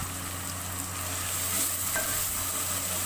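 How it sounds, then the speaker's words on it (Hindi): Chopped tomatoes and spices frying in a pan for dhaba-style chana daal, a steady close sizzle with faint stirring crackle running throughout, no voices. "टमाटरों में सारे स्पाइसेस भी ऐड कर देंगे और इन्हें अच्छी तरह भूनेंगे।"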